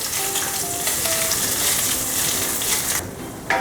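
Chicken liver sizzling in a hot pan while being crushed and broken up, a loud continuous fry with a few faint tonal beeps, cut short near the end.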